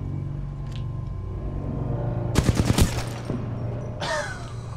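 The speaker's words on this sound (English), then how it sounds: "Somebody firing at me" Enemy gunfire in the Titanfall 2 video game: a rapid burst of several loud, sharp shots over a low rumbling game backdrop, followed by a fainter rising whine.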